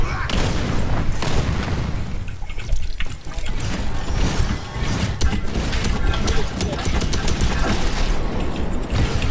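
Dense, continuous rumble of explosions and gunfire from the video game Second Extinction, with sharp repeated bursts, loud throughout, mixed with voices chatting in Thai over the action.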